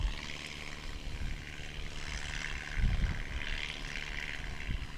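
Propeller engine of a STOL airplane taking off at a swamp STOL practice in Jennings, Louisiana, a steady distant drone with a faint rise, heard at low level with no talk.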